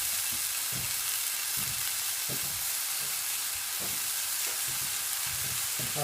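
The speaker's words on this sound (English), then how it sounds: "Mushrooms are cooking away nicely here." Mushrooms fry in a pan for smoked salmon and cream pasta sauce, a steady broadband sizzle running throughout with occasional soft low stirring knocks, close and continuous.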